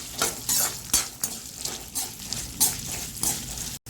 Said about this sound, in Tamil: இஞ்சி போடுறேன். அப்புறமா பூண்டு, ஒரு 2 பச்சை மிளகாய், இதெல்லாம் போட்டு நல்லா வதக்கலாம்.